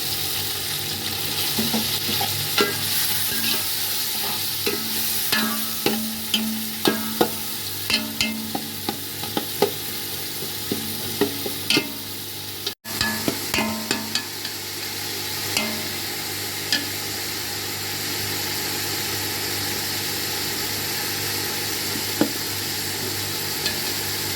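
Tomatoes drop into hot oil with frying garlic and ginger, sizzling steadily while a spoon scrapes and stirs with irregular clinks and knocks, close and fairly loud throughout.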